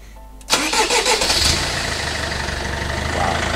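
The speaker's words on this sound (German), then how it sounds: "mal schauen, ob das Fahrzeug anspringt" A van engine cranks briefly and catches quickly, bursting into life before settling into a steady, close idle.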